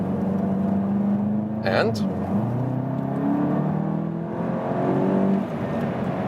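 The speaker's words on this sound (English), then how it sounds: "Alright guys, track time with the Golf GTI TCR, and we go to the sports mode." A Volkswagen Golf GTI TCR in sports mode on a race track, its engine droning steadily and rising in pitch as it accelerates, with a person talking over the engine noise throughout.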